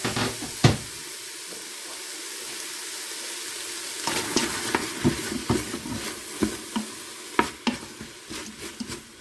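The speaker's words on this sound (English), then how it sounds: "we're going to go in with the onion and the pepper. Cook that off for a few minutes." Onion and pepper fry in a pan, a steady sizzle broken by repeated scraping and clattering of a utensil stirring, growing busier in the second half.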